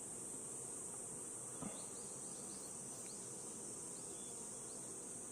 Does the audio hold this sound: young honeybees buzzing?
yes